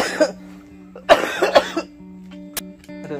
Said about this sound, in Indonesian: batuk-batuk terus.